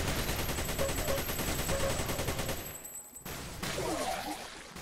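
Rapid automatic gunfire from weapons in the Xonotic first-person shooter, a loud continuous stream of shots that cuts out abruptly, followed by more game sounds.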